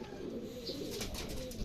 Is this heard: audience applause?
no